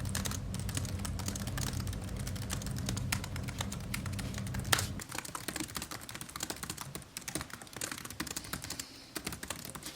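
Steady, brisk typing on a computer keyboard during a writing session, dense key clatter running the whole way with a low hum under the first half and no talk.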